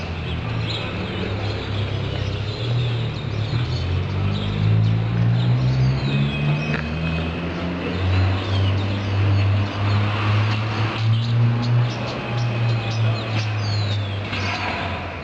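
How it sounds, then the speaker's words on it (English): Birds chirp in a lush hotel garden in Ecuador, with thin, scattered tweets and calls over a steady low hum, staying fairly faint throughout. "Listen to those birds."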